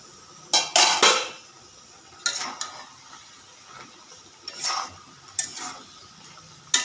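A metal cooking pot lid is lifted and a spoon stirs and scrapes inside a pot of simmering stem and potato curry, a few sharp clanks separated by quiet gaps.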